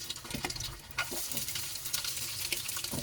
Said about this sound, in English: So frying the minced meat in the normal way, nothing special there.